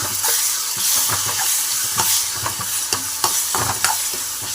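Vegetables with coriander powder and asafoetida sizzle in a frying pan while a spoon scrapes and stirs through them, giving a steady close hiss broken by repeated soft knocks and scrapes.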